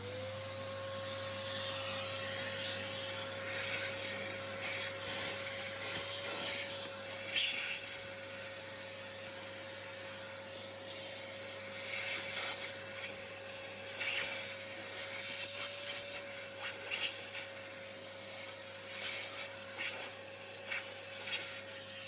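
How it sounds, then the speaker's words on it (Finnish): A vacuum cleaner runs steadily with a constant motor whine, its suction rattling and scraping as debris is drawn up in irregular bursts from around the distributor of a 1966 Plymouth Belvedere engine. "Otetaan imurilla virranjakajan juurelta isoimmat roskat pois, etteivät putoa moottorin sisään."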